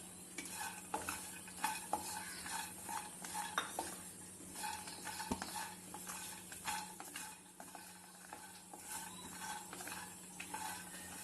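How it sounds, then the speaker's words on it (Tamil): Grated coconut sautéing in a pan for a traditional Tamil porivilangai urundai sweet, with continuous soft scraping and clinking of a ladle stirring over a faint sizzle, steady and close throughout. "இப்போ இந்த தேங்காயை போட்டு நல்லா வதக்கிக்குவோம். வாசம் வர்ற அளவுக்கு வதக்கிக்குவோம்."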